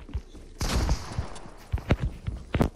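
Shotgun blasts in the Fortnite video game, several sharp broadband bangs spaced irregularly over a few seconds, with one longer burst early and quicker single shots toward the end, fairly close and loud.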